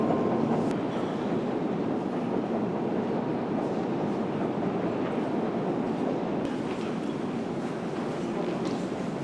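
Subway train running through a Kyiv metro station used as an air-raid shelter, a steady loud rumble and rail roar filling the space throughout, with faint voices of sheltering people underneath.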